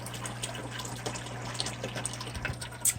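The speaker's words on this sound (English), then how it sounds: "So now the siphon's really starting to pull the water." A custom aquaponics bell siphon drains water from a grow bed with a steady, close gushing and trickling flow over a constant low pump hum, with a few small splashes.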